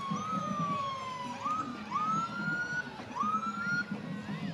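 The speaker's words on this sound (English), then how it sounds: "It's about to get real noisy here, folks, with the sirens and everything" Police sirens at a street parade wail and sweep up and down repeatedly, fairly close and loud, over a low background rumble of vehicles and crowd.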